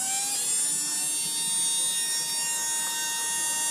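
A Tamiya Torque Tuned electric motor running during break-in, a steady high-pitched whine and buzz held at a constant speed throughout, close and alone.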